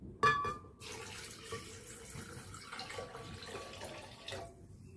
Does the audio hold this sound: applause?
no